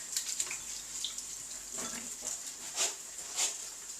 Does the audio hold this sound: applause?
no